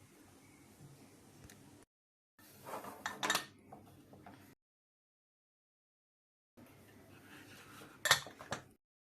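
Metal clanks and clinks of a pressure cooker lid being fitted and closed over mutton curry come in two short bursts separated by silent gaps, with a sharp knock near the end.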